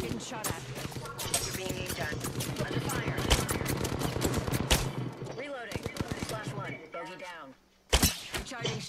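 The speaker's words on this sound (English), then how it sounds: "Getting shot at. You're being aimed at. Under fire." Rapid automatic gunfire in Apex Legends plays out in dense bursts and sharp single shots, loud and up close, with a voice talking over much of it and a final hard shot after a brief lull.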